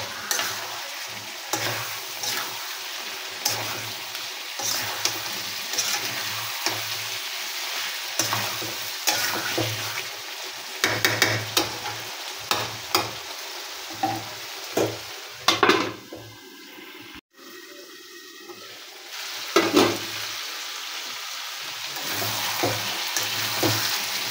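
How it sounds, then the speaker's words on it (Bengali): Mutton being sautéed kosha-style with spices in a pan, village-style mutton bhuna: steady close sizzling with frequent scraping stirs and occasional utensil knocks against the pot, no speech. "মাংসটা প্রায় কষানো হয়ে গেছে। তো আমি আর কিছুক্ষণ কষিয়ে নেব।"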